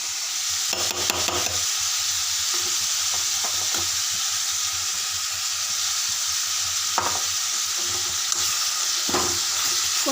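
Curry with masala paste fries and sizzles in a pan as it is stirred, a steady hiss broken by several scraping spoon strokes, close and loud, with no talking.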